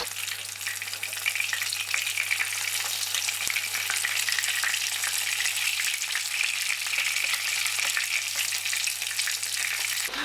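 Battered fish fillets frying in hot oil, giving a loud, constant close-up sizzle with fine crackling bubbles that continues without a break.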